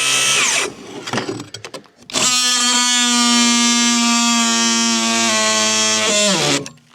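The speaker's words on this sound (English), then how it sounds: "I'm going to use the multi-tool to get in there in the corners and finish the job" Oscillating multi-tool cutting into wood corners inside a cold cabin, a loud high buzzing drone in two runs, the first short and uneven, the second sustained for several seconds before stopping.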